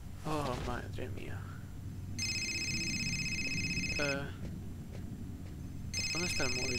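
Mobile phone ringing in the video game Fahrenheit, a repeated electronic ringtone in two bursts separated by a pause, loud and close, with speech in Spanish between the rings.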